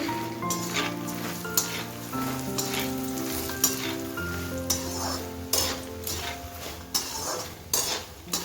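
Makhana (fox nuts) sizzling in ghee in a pan, a crackling fry under repeated clinks and scrapes of a spoon against the pan, with a faint musical backdrop throughout.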